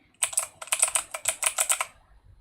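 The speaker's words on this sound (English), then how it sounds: "this keyboard, I don't feel like I need to put a bunch of O-rings in it. It's not too loud, even though it's on a metal plate" Fingers type briskly on a Dygma Defy mechanical keyboard with a metal plate, producing a close, crisp run of clacky keystrokes in quick irregular bursts before stopping.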